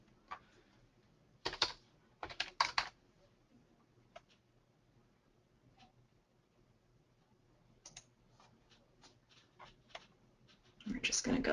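Scattered bursts of keystrokes on a computer keyboard, entering a prescription drug name during a Medicare plan search, with quiet gaps between short clusters and a louder run of typing at the end.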